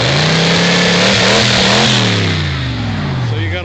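A cold-blooded 1923 Ford Track Nose Roadster engine with no choke, revving loudly up and then easing back down, close and steady with the engine roar filling the whole moment.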